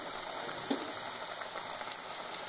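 Masala fish frying in oil in a pan over a medium flame, a steady close bubbling sizzle with a few sharper pops and crackles, no voices.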